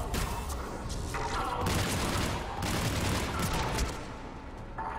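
Sustained gunfire and explosions from a Mass Effect 3 firefight, dense and continuous for several seconds with booming bursts.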